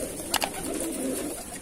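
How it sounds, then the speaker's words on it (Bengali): Pigeons of Madrasi breeds coo in a soft, low continuous murmur from close by, with a brief flutter or tap early on and no voices. "এই পায়রাগুলো দেখিয়ে দিচ্ছি"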